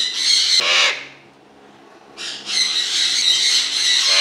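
A pet Eclectus parrot gives harsh, loud squawks nearby, one short burst at the start, then a pause, then a longer run of raspy calls.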